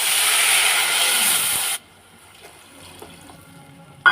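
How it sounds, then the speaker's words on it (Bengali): Two cups of water pour steadily onto uncooked rice for jeera rice, a loud rushing splash lasting under two seconds that cuts off abruptly, leaving quiet kitchen room tone and a small clink at the end. "এই কাপের মাপেই 2 কাপ জল দেবো"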